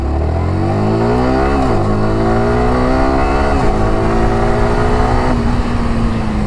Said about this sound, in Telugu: మనం జస్ట్ థ్రాటిల్ ఓపెన్ చేసినప్పుడు అలా మీరు గేర్ అనేది డైరెక్ట్ చేంజ్ చేసుకోవచ్చు